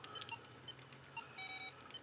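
Scattered high electronic beeps from the Radio Shack Space Crusher handheld LCD game, short blips in an irregular rhythm with a slightly longer triple beep, close and quiet.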